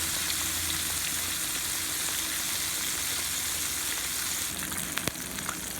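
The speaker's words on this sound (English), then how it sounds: "I'm going to fry it on a little bit" Pork chop frying in a pan, a steady dense sizzle and crackle held close and even throughout, with a few sharp pops near the end and no speech.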